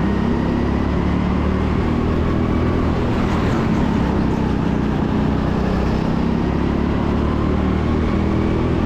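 Go-karts race around the TeamSport Sheffield track during an Elite Members hot pursuit session, their engines forming a steady, dense roar that holds at the same loudness throughout.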